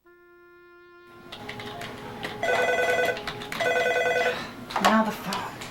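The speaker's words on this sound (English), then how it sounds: "Now the phone." An office telephone rings in a medication training scene, with repeated bursts of bright electronic ringing that start after a sustained tone and continue amid background room noise.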